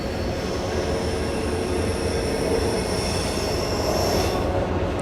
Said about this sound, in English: you're hearing the sound of a train down below